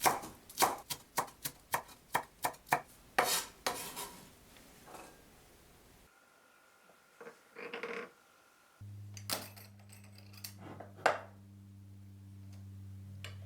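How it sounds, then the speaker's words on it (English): Knife chopping 10 grams of cilantro on a board, sharp rhythmic strikes fast at first then slowing over about six seconds, followed by softer scraping and a low steady hum. "cut 10 grams of cilantro in 2 sections."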